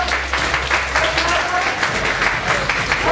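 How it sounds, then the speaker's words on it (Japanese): Audience applause at a university festival hall band concert fills the space, a dense wash of many hands clapping at once, steady and fairly loud throughout. "皆さん盛大な拍手をお願いします"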